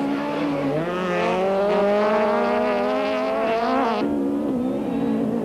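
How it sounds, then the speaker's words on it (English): A Toyota rally car revs hard while overtaking a Volkswagen Golf on a dusty stage, its loud engine note climbing through the gears close by before it suddenly drops off. "Keen to escape the Volkswagen's dust, Brady attempts a passing maneuver on the Golf."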